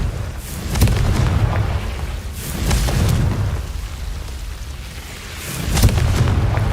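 Confringo fire spell explosions in the Hogwarts Legacy video game: three deep, rumbling booms spaced a few seconds apart, each with a sharp crack on top and a low roar that lingers between blasts, loud and close.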